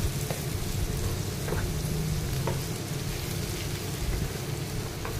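Chopped tomatoes stirred into hot oil in a pan for a spicy brinjal masala curry, giving a steady, close, dense sizzle with light scraping from the stirring throughout and no talk.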